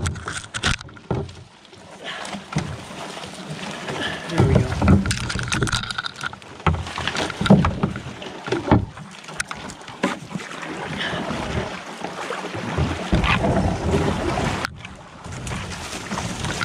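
A solo canoe moving along a branching river among overhanging branches: close paddle splashes, hull knocks and scraping against wood, with gusts of wind buffeting the microphone, uneven and fairly loud.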